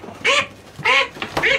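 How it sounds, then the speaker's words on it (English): Ducks being let out of their pen quack in three loud, close bursts, each a short nasal call, with brief pauses between them. "Let the ducks out."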